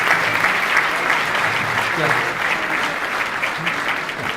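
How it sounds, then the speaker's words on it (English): A crowd claps in sustained, even applause that stays loud and steady throughout, with a few voices faintly mixed in. "please give our elected officials a round of applause"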